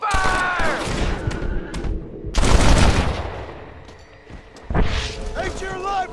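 Gunfire breaks out in a Red Dead Redemption shootout, with sharp loud bursts of shots and a heavy volley in the middle, then another rattle near the end, mixed with game voices and effects.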